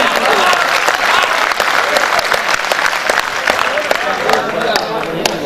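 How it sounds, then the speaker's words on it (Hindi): Steady, dense applause from a mushaira audience during a youth poetry gathering, continuous and fairly loud for several seconds with crowd noise mixed in. "अगर बात अच्छी लग जाए तो एक बार ताली बजाकर हौसला बढ़ाएं"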